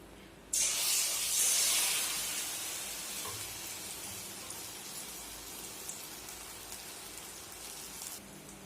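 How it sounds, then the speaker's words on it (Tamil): Batter-dipped balls coated in maida flour deep-fry in hot oil, a steady loud sizzling hiss that swells sharply at the start and then settles into a continuous bubbling crackle. "டிப் பண்ணி எண்ணெயில் பொரிச்சு எடுக்கணும்"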